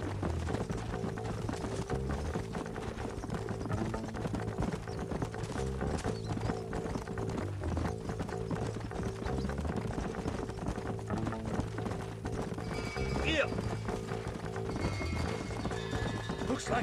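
Steady rhythmic clip-clop of hooves at a gallop in Red Dead Redemption runs throughout, accompanied by a looping musical score, with faint snorts near the end.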